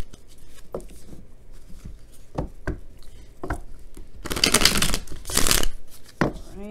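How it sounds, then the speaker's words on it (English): Cards riffle and tap in short bursts, then a loud, sustained riffle shuffle runs for about a second, followed by a final bridge snap. "if you do want to watch me shuffle"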